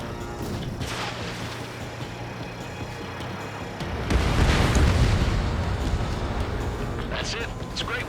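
An enemy bomber blowing up in the Ace Combat 7 flight game, during Mission 1. A deep, heavy boom erupts midway through the steady roar of jet engines and rumbles on for a few seconds, with voices talking nearby.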